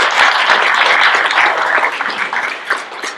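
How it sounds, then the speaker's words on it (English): Luncheon guests applaud the mayor of Merchantville as he is introduced, a close, loud round of clapping from a room of people, with individual claps audible and the sound slowly thinning toward the end. "Let's give him a big round of applause."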